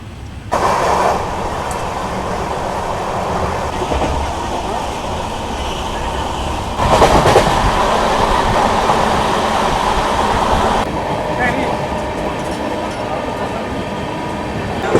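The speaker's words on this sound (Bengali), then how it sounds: "তো ছেড়ে দিল আমাদের ট্রেন মেছেদা থেকে।" The 18045 Shalimar–Vizag East Coast Express rumbles steadily along the rails just after departing Mecheda, a loud continuous roar with brief surges and clatter, heard from inside the coach.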